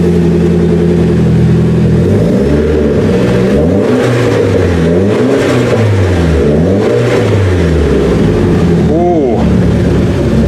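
A 1994 Nissan with a modified exhaust runs loudly through its first start, the engine rising and falling in repeated revs with a brief sharp pitch sweep near the end.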